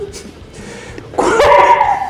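A person mimics the cry of a Korean water deer, producing one loud, strained, wailing call that starts about halfway through and holds to the end, following a quieter stretch of background murmur.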